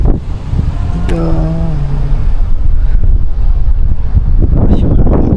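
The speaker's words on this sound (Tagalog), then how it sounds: "Lakas yung hangin." Strong wind buffeting the microphone during a bike ride on Kiawah Island, South Carolina, a loud continuous rumbling roar throughout, with a brief tonal sound partway through.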